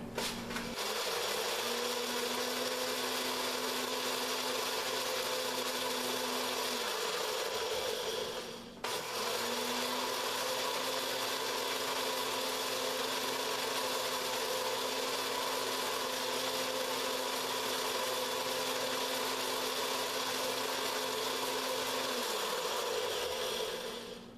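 A blender grinding soaked rice for horchata runs loud and steady, with a brief stop near the middle before whirring on again until it winds down at the end.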